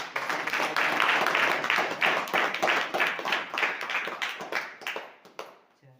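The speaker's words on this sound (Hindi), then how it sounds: "आमीन, जोरदार तालियां।" A church congregation claps loudly in a dense, continuous burst of hand claps that holds steady and then thins and fades toward the end.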